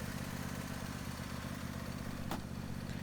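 A John Deere E130 riding mower's two-cylinder engine runs steadily up close, a smooth, even idle with a constant low throb, plus a single short click near the end.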